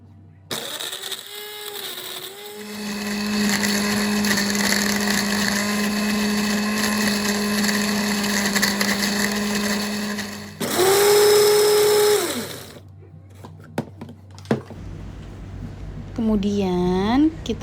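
Kitchen blender grinds garlic, shallots, candlenuts and tomato into a paste for eggplant balado, a loud steady whir running for about eight seconds, then a second shorter burst, with brief voices between runs.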